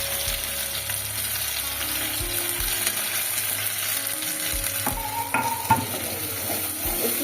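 Ground green pea paste for kachori filling fries in a pan, giving a steady close sizzle with scraping and a few knocks as it is stirred, and no talk.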